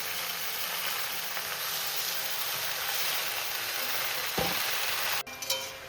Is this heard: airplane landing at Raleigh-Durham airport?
no